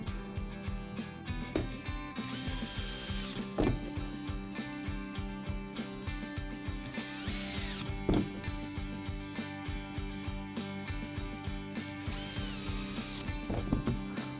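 Screws driven in by a powered driver while fastening a DJI T100 quad nozzle row crop kit onto its rod, heard as repeated ratcheting clicks and short whirring bursts, close and steady, with no voices.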